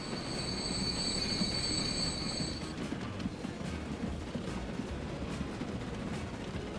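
A train in the Transport Fever game squeals its wheels with a sustained high metallic screech for the first few seconds, over a steady rumbling roll of railcars that continues alone after the squeal stops.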